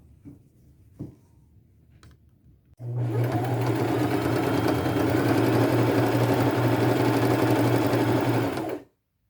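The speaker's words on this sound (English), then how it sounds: "Now I have the sides all sewn together, and now they're back to a normal pair of pants." A sewing machine stitches the side seams of a pair of thrift-flipped pants. A few faint clicks come first, then a steady, close, whirring mechanical run of about six seconds that stops abruptly.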